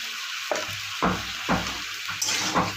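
Mixed vegetables with potato, salt and turmeric fry in a hot pan, giving a steady close sizzle broken by about five scraping stirs of the spatula, roughly every half second.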